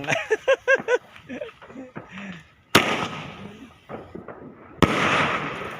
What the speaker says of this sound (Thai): ตอนนี้เขาก็ได้จุดพลุไปแล้ว เป็นการเฉลิมฉลอง ปีใหม่นะครับพี่น้อง